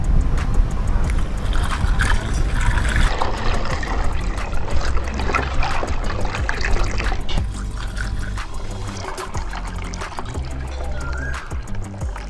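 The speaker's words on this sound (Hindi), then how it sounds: "और अब इसमें मैं पानी ऐड कर दूंगा।" Water poured into a jug of masala lemonade with ice, a close, loud gushing and splashing pour that goes on steadily, with ice clinking, then thins toward the end.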